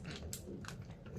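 Crisp bites and crunching of Sweet Chaos Delightfully Disruptive Peppermint Crunch Popcorn, a candy-coated popcorn, several quick crunches close to the mic, faint and alone with no talk.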